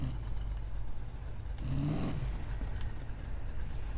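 A car engine revs steadily in Need for Speed Payback while a driver wheelies into a wall. The drone swells briefly in the middle and stays continuous throughout.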